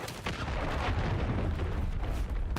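A frag grenade explodes in Call of Duty MWIII multiplayer: heavy, booming rumble with sharp cracks at the start and end, dense battle noise throughout, no speech.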